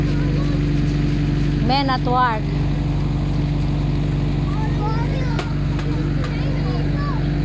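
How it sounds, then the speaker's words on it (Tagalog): A steady low engine rumble runs throughout, with a voice and an adult speaking briefly over it. "Maandar yung makina."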